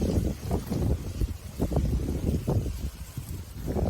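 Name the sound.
wind blowing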